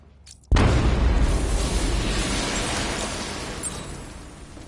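A huge detonation bursts in Batman Arkham Knight, a sudden loud boom followed by a sustained roaring rumble and debris that fades slowly over several seconds, with no speech.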